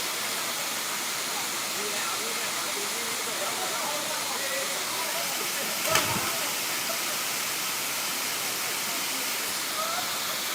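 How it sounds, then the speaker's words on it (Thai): Steady broadband rush of the Huai Mae Khamin waterfall in Kanchanaburi, Thailand, filling the whole stretch as a constant near roar, with a brief splash or thump around the middle and faint voices mixed in. "น้ำตกแม่ห้วยขมิ้นนะคะ ที่จังหวัดกาญจนบุรีค่ะ"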